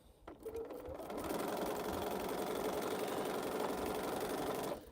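A sewing machine stitches half square triangle pieces in a steady, continuous run, its motor humming with a rapid mechanical patter that starts after a brief pause and holds at an even, close level until it stops.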